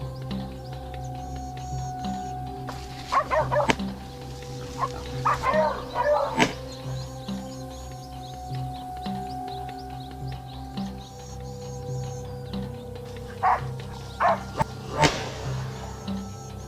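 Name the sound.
hunting dogs barking at a cornered wild boar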